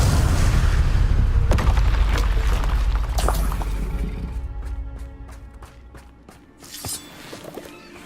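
Spell explosions from Bombarda and Confringo casts in the Hogwarts Legacy video game: dense booming blasts and sharp cracks crowd the opening seconds, then thinner, spaced snaps trail off over a quieter rumble.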